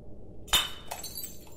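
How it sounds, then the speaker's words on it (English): Glass is smashed with a stick in the video game The Sandman: one sharp, bright shatter followed by a second, smaller tinkle of falling shards over a quiet, low background. "Break the glass with the stick"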